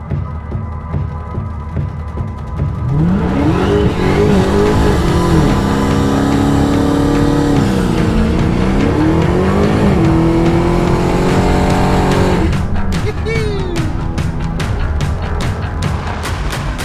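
A 2021 Dodge Charger SRT Hellcat Redeye Widebody driving, its loud supercharged engine droning and rising through revs and shifts, heard close and sustained from start to finish with no talk.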